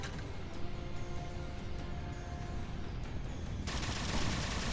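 Rapid turret gunfire from a Halo 4 battle against a scarab, a continuous rattling fusillade that stays loud and dense throughout, with no voices.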